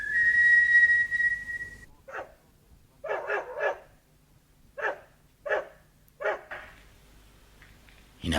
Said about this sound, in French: Oh, un chien!